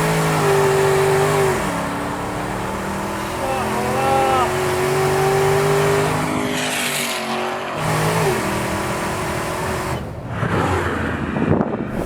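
A Dodge Charger SRT tuned past 1000 hp revs hard and accelerates, its loud close engine note rising and falling in sustained surges with brief gear-change dips, ending in a rougher burst.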